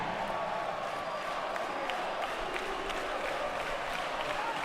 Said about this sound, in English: the crowd cheering every miss by Germany